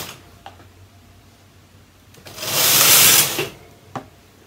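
A Brother knitting machine used for weaving gives a few sparse clicks, then one loud sliding whoosh as the carriage sweeps across the bed, followed by another sharp click in an otherwise quiet room.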